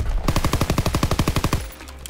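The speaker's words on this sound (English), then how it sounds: "the amount of people in this game that are using a light machine gun is ridiculous" Light machine gun fire in Call of Duty: WWII on the Shipment 1944 map: a loud, rapid sustained burst of about fifteen evenly spaced shots, close and punchy, ending abruptly.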